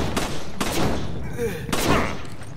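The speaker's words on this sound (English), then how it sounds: "I managed to shoot him a couple of times." Gunfire in the Resident Evil 5 video game: three loud, close gunshots in a rough, evenly spaced rhythm, with game noise between them.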